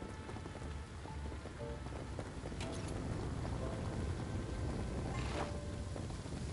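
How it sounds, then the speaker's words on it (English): Steady rain falls in the video game Embr, a dense even hiss with scattered drop patter and a couple of brighter crackles, continuous and close throughout. "Is it raining in the game?"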